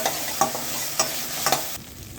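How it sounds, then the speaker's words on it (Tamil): Ginger garlic paste sautéing with softened onions for a chicken kulambu makes a continuous close sizzle, punctuated by three sharp spatula scrapes at regular intervals before the frying briefly quiets. "நம்ம இஞ்சி பூண்டு பேஸ்ட்டு சேர்த்துக்கலாம். இது நல்லா வதக்கிக்கலாம்."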